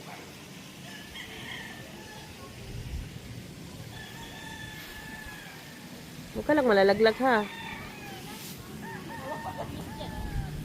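A rooster gives one short crow midway through against a quiet outdoor background, with a person speaking nearby.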